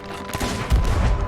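Ship cannons fire in the pirate video game Sea of Thieves, a cluster of booming blasts and crackling bursts, loud and close, building into a heavier low rumble in the second half.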